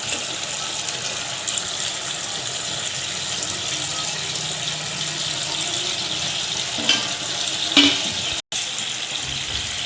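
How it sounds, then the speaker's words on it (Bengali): Ginger juice goes into a curry of water taro sizzling in a pan in a village kitchen, a steady close hiss and bubbling with a few faint clinks near the end, no voices. "এবার আদা রস দেওয়া হলো।"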